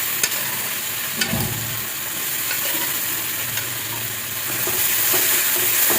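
Cooked black peas being sautéed in homemade masala in a pan, giving a continuous close frying hiss with a few stirring knocks and a brief scrape, swelling louder near the end.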